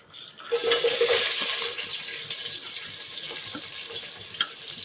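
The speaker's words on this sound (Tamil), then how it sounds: "இது நல்லா வெங்காயம் வதங்கட்டும்." Three long-sliced onions with bay leaves, cinnamon and cloves hissing in hot oil for chicken biryani, a loud steady sizzle that swells at first and then settles into an even close hiss, with no voices.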